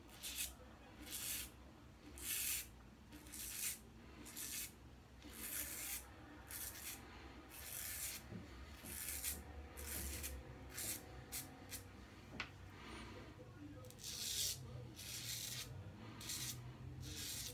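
Blade scraping across stubble with a Barbedeaux safety razor head on a WCS handle and a Rainbow blade, heard as repeated short, close rasping strokes with brief pauses between passes.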